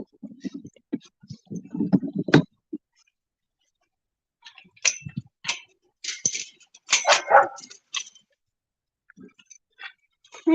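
Several rescue dogs bark at feeding time, with short sharp barks and yips in scattered bursts, some close and loud, with quiet gaps between them.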